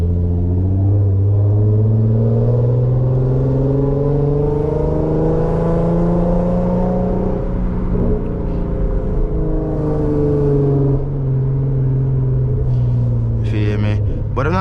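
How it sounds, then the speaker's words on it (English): A 400whp Infiniti Q50 engine pulls hard from inside the car during a late-night drive, a loud, continuous droning exhaust note rising and falling through long sweeping revs, with talking mixed in at times. "I want y'all to hear this engine, bro."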